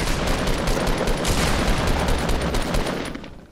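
Rapid bursts of shotgun gunfire from a Fortnite match, crackling close and loud in a dense volley that tapers off near the end.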